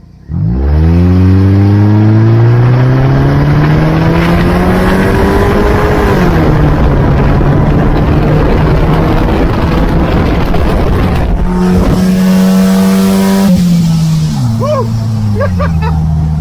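A loud, rattling Volkswagen Beetle engine with its cover off drones steadily, revving and shifting pitch as it drives, with brief voices faintly under the noise.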